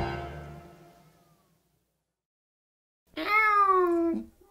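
A cat meows once as a sound effect in a Korean audio drama of Alice in Wonderland, a single clear, drawn-out meow near the end following a fading musical tone and a gap of silence.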